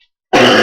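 A single cough lands close and loud into a microphone after a brief silence, its harsh, throaty burst filling the rest of the moment.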